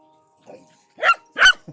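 Dogs out in the countryside: two loud, close barks in quick succession, preceded by a softer bark and followed by a brief yip, alone with no talking.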